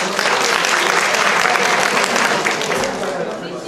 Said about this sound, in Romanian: Aplauze, vă rog!